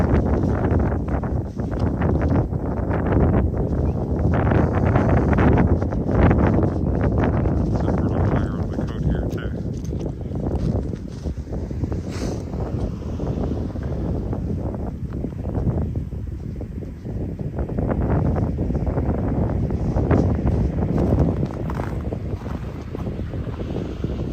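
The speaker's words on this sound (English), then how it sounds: "the wind is pushing the wind chill down into the minus 20 something" Cold winter wind on an icy creek walk in Regina in March buffets the microphone in loud, continuous roaring gusts that never let up.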